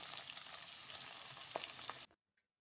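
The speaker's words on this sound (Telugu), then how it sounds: "పచ్చిమిర్చి ఆనియన్ ఫ్రై అయ్యేంత వరకు బ్రౌన్ కలర్ వచ్చేంత వరకు ఫ్రై చేయాలి" Onions and green chilies frying in a pan for a fish curry give a steady, close sizzle with occasional stirring clicks, then cut off abruptly.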